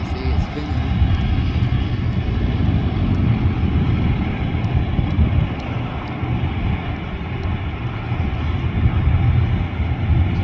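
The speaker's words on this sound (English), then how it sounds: "There's the one prop starting." A propeller engine on an airliner at Canberra International Airport starts up before pushback, giving a continuous heavy drone and whirr heard from outside amid wind and ambient noise, with someone talking.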